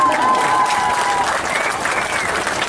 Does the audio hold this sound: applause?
yes